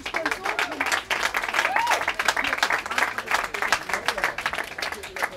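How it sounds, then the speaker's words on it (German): Audience applause rings out at a German fashion show, dense steady clapping running the whole stretch with a voice speaking over it. "Ein riesen Applaus und nochmals vielen, vielen Dank."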